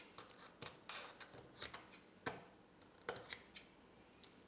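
Kitchen scissors snipping canned chicken into smaller pieces for a chicken cobbler, a quick irregular series of faint sharp snips and clicks, close up with no talk.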